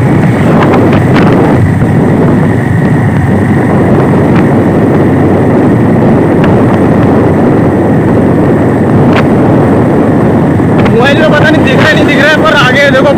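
A motorbike ride through hilly country, dominated by heavy, constant wind buffeting on the microphone with a muffled engine drone underneath throughout.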